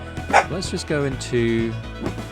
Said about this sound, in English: as a Dachshund, he has to alert me to the presence of every other person in existence